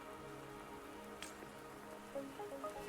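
Steady rain patters on surfaces in the Wuthering Waves game world, a soft continuous hiss with a few brighter drips and tones near the end, no voices.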